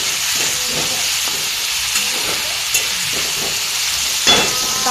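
Tomatoes fry in a pan with browned onions, giving a continuous loud sizzle as a spoon stirs and scrapes through them.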